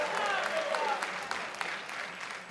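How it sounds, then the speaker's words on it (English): A ceremony audience at a hip-hop honors induction breaks into dense, sustained applause, a steady wash of clapping that holds near-constant loudness before easing slightly at the end. "Can we get a round of applause for the late Mr."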